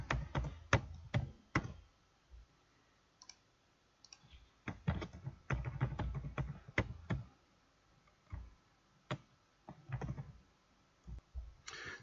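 Keys on a computer keyboard click in short, irregular bursts as login credentials for a device are typed in, quiet and close, with pauses between runs of taps and no voices.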